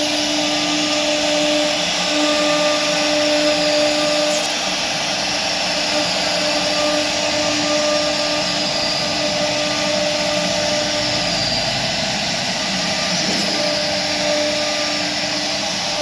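A CNC machine carving teak wood gives a steady, loud, close whine with a constant pitch and a few faint clicks, running without a break and with no voices.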